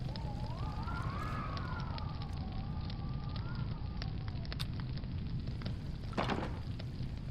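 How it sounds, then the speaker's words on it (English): Fireplace fire burning steadily in a video game home, a constant close crackling roar with small pops, while a faint wavering tone drifts behind it. "oh, my fire is going"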